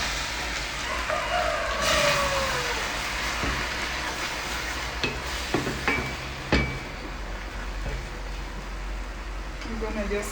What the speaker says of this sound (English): Then you give it a stir.